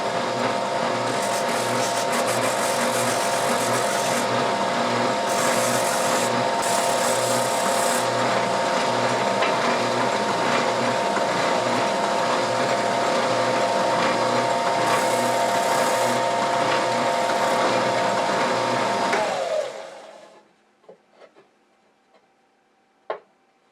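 Steady, continuous mechanical whirring with a rough, grinding texture as wood is sanded on a lathe, running loud and unbroken for about twenty seconds, then stopping abruptly, leaving a few faint clicks.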